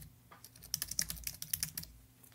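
Quick bursts of typing on a computer keyboard, about a dozen crisp close key clicks in an uneven rhythm, heard alone in a quiet room.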